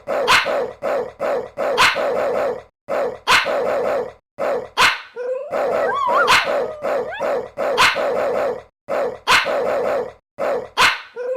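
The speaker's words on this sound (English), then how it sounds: "the whining dog ties it together. It's a signature sound" A music beat built from sampled dog barks and a whining dog: loud, close barks repeat in a tight rhythmic loop, broken midway by a rising and falling whine, with no talking.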